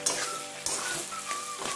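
Ground soybean paste fries in hot oil with a loud, dense, continuous sizzle and crackle, close up, with faint stirring scrapes and no voices.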